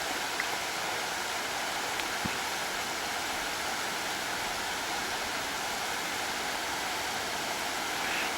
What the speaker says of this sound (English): we'll sit and listen to the sounds of the water for a little while